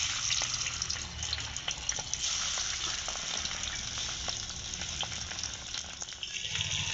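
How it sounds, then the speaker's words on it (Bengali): Sea fish frying in hot oil in a wok (kadai) gives a loud, steady, close sizzle that runs throughout, with faint stirring or spattering sounds on top. "মাছ আমি কিন্তু কড়াইয়ের মধ্যে দিয়ে দিয়েছি ভাজার জন্য"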